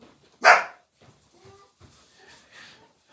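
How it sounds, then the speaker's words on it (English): A single loud dog bark close by, followed by quieter rustling and faint sounds. "No more barking."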